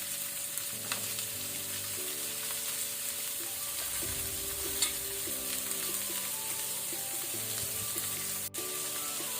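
Onions and green chillies frying in a pan with asafoetida for chole masala make a steady, fairly quiet sizzle, with faint stirring scrapes throughout and no speech.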